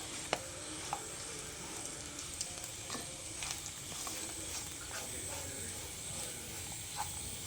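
Pork fry with masala spices sizzles quietly in a pan, a soft steady hiss with sharp clicks and scrapes from stirring, close up and without speech.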